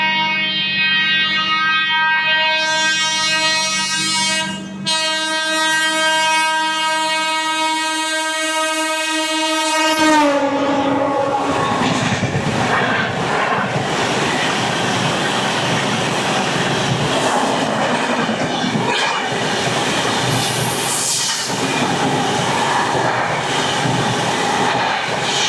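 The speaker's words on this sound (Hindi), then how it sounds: "पीछे से आ रही है भुवनेश्वर तेजस राजधानी।" The Bhubaneswar Tejas Rajdhani train overtakes the Magadh Express, opening with a long, loud, sustained horn blast. A roaring rush of passing carriages follows, with rhythmic clatter and another horn note in the distance.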